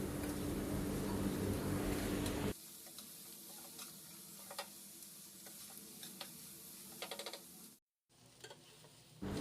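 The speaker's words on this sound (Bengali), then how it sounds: "পেঁয়াজ মরিচগুলো একসাথে খুব ভালো করে মিশিয়ে ভেজে নেব" Onions and chilies fry with a little salt in a pot for a spicy shrimp bharta bhuna, giving a loud steady sizzle at first that settles into a softer crackle, with occasional stirring clinks and scrapes.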